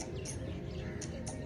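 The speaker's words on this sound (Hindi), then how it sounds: "चिड़ियों की चहचहाहट" Several birds twitter at sunset around the Noor Mahal palace in Bahawalpur, with a few short high chirps standing out over a steady, low outdoor hum.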